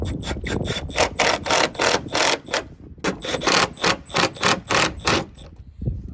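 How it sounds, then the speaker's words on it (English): Wrench or ratchet tightening bolts on sliding barn door hardware, heard as a close, loud string of rapid rhythmic clicking bursts in quick repeated strokes with short pauses between. "Now we're on the other side and we're just cranking our bolts down."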